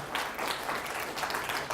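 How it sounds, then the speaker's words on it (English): A lecture audience applauds the Mexican men present, a short, even patter of clapping heard at moderate distance for under two seconds. "let's give a round of applause for the Mexican men in here"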